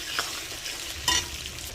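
Cauliflower and potato fry in a pan with a continuous close sizzle, marked by a couple of short clinks of a utensil against the pan, and no speech.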